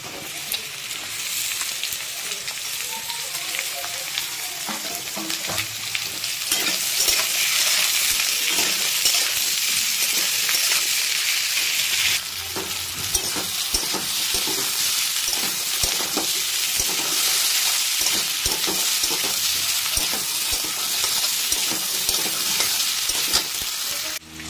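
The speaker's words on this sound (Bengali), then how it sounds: "পেঁয়াজ দেওয়ার পরে প্রায় এখানে 10 মিনিট মতন ভাজা হয়েছে।" Chopped onion frying with potatoes in a pan gives a steady, close sizzle that swells louder partway through, with occasional stirring scrapes and faint metallic clinks and no voices.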